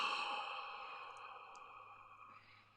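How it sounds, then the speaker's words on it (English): One slow, deep breath drawn close to the microphone during a guided meditation, soft and airy, fading gradually over a few seconds with no speech. "take in a deep breath"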